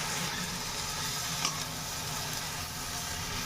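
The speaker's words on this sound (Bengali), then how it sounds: "এবার চিকেন এবং সবজি সব কিছুগুলো নিয়ে একসাথে এটা ফ্রাই করে নেব" Chicken and vegetables fry together in a pan for a diet atta chow mein, giving a steady, loud broadband sizzle that holds evenly throughout with a brief soft clink midway.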